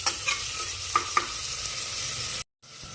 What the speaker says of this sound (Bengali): এর ভেতর দিয়ে দেবো কেটে রাখা পেঁয়াজ আর টমেটো দিয়ে এটাকে ভালো করে নাড়াচাড়া করে